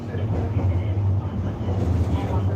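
Steady low rumble of a MAX light rail train in motion, heard from inside the car, loud and continuous with rhythmic rolling swells throughout.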